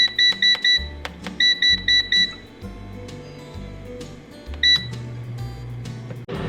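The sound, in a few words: air fryer control panel beeping as temperature is set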